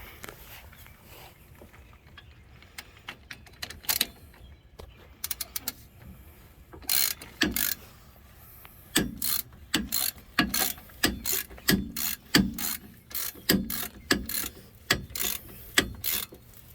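Ratchet clicking while tightening front wheel bearing bolts on a 1997-2001 Jeep Cherokee XJ, with a few scattered bursts early and then a steady series of sharp, close ratcheting strokes in quick rhythm, without talk.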